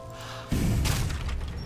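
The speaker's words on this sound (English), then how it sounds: "I hear cannon fire." A single deep boom from cannon fire in Age of Empires 3 lands suddenly after a low hum, leaving a rumbling tail that fades slowly.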